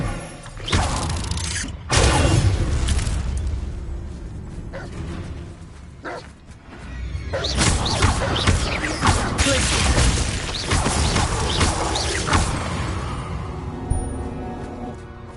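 Confringo blasting-spell explosions in Hogwarts Legacy on PS5: loud, crashing bursts of game combat noise, each blast erupting and then rumbling off, with a longer sustained roar of destruction in the second half.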